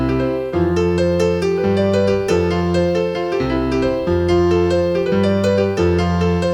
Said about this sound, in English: if I'm going to be using the broken chords, it's going to sound like this.